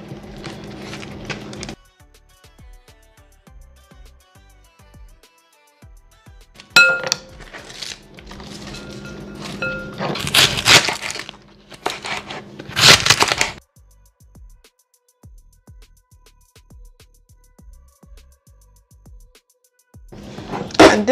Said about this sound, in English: And this is how I cut up the cabbage, guys.